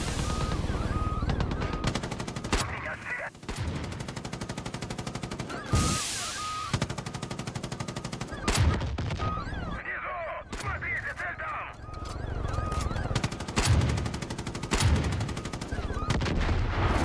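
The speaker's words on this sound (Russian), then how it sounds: "А это обычный пулемет." Far Cry 5 gunplay brings repeated bursts of machine gun fire, some long and sustained and some short, mixed with other shots and game effects, loud and close throughout.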